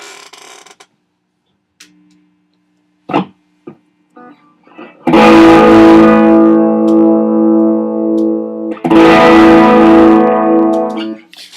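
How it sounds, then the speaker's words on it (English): Overdriven electric guitar through an amp rings out in two loud, sustained chords with gritty harmonics, preceded by a few faint scattered picks and quiet handling noises. "I have more of a drive sound on my amp right now."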